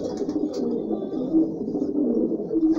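Pigeons coo in a home breeding loft where nesting pairs sit on eggs, a close, low, steady burble of overlapping calls with a few faint higher chirps and no talk.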